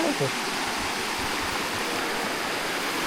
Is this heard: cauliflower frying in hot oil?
no